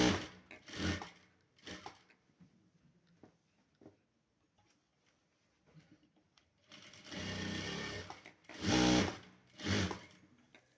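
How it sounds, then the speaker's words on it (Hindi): A sewing machine stitches cloth for a homemade duster in short bursts of rapid, close mechanical whirring, a few brief runs followed by quiet handling and then a longer stitching stretch near the end. "अब मैं सिलाई करूँला।"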